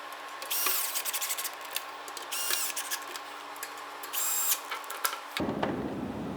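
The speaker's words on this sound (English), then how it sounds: "Now these top ones with your cross, you can use the drill to tighten them up." A power drill whirs in several short bursts while tightening bolts on a Tolix table base, with brief pauses between, then a rougher mechanical grinding toward the end.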